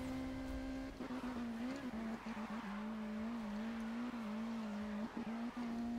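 Car drifting at about 241 km/h in Need for Speed Rivals, a steady loud engine drone with a sustained whine that dips and rises slightly through the slide, continuous for the whole stretch with no talk.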